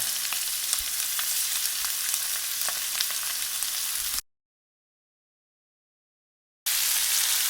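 Marinated prawns sizzle and crackle steadily in a hot pan, a dense frying hiss that cuts to silence for a few seconds before resuming.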